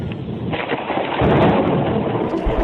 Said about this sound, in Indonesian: Angin bertiup kencang, gelombang air laut naik, kilat menyambar-nyambar, dan kapal pun terguncang.